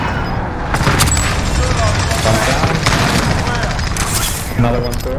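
Rapid automatic gunfire bursts crackle through a Warzone match, dense and loud throughout, mixed with booms and a player talking over the shooting.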